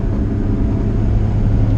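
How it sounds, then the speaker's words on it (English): A Honda CR-V with a loose, broken spark plug wire drones loudly from inside while driving, its engine misfiring in a rough, steady low rumble throughout. "it's got some misfiring going on right now"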